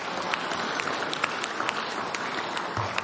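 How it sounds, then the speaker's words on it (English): A crowd at a football club awards presentation night applauds for about three seconds, a dense, steady patter of clapping with a few sharper claps standing out, heard at moderate volume without talk. "I think, round of applause,"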